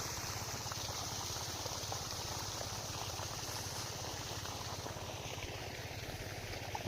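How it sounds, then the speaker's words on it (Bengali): A machine pumps water onto a farm field, a steady, fairly faint mechanical drone with a constant rushing, gurgling wash and no pauses or voices. "মেশিনে পানি দিচ্ছি।"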